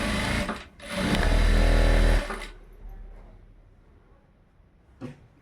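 A sewing machine runs a straight stitch across an embroidered blouse, one loud steady burst of about a second and a half, then a fainter mechanical tail and a short final knock.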